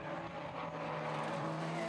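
Radical Clubman's Cup race cars roar steadily at a distance near Clairvaux corner at Croft circuit, a sustained high-pitched drone with no speech.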